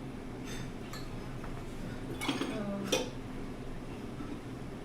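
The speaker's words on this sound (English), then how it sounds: "you can just hear it's very soft, and you can just spoon it out and eat it" A spoon scraping and clinking against a halved coconut while soft coconut flesh is scooped out, a few light metallic taps and scrapes, faint and close, under a low room hum.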